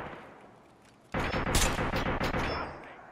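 Sudden burst of rapid gunfire in Escape from Tarkov Arena, loud and sustained for about two seconds of closely spaced shots, starting abruptly after quiet.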